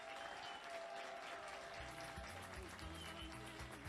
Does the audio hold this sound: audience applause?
yes